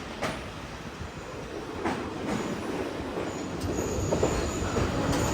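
A train pulls into Colombo Fort railway station after a long run from Badulla, a loud, steady rumble with a high wheel squeal running through it and a few clanks as it rolls in.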